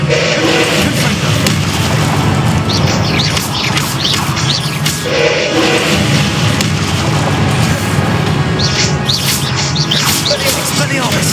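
Confringo blasting spells exploding during a Hogwarts Legacy video game fight: repeated loud booms and bursts over continuous battle noise, with a voice shouting over the action throughout.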